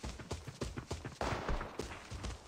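Gunshots ring out in the Arena Breakout shooter game, a quick series of sharp, evenly spaced cracks followed by a louder, denser burst of fire, with no talk over them.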